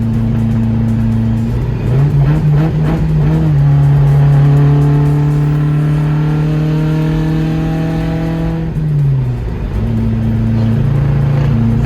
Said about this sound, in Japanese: あらららかなりミスファイアしている。